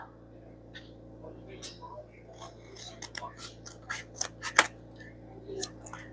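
Scissors snip through black, white and gray journal card paper in a series of short, crisp cuts, fairly close and soft, with quiet handling sounds around them.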